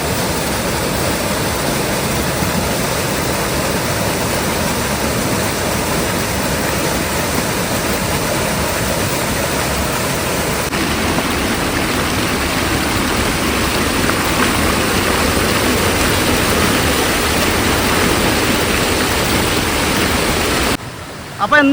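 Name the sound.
waterfall over rocks near Peppara Dam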